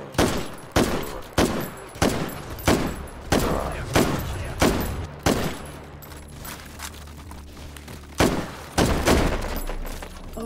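An SMG fires in the H3VR virtual-reality shooter: about a dozen sharp, separate single shots at an uneven pace, loud and close, each with a short echoing tail.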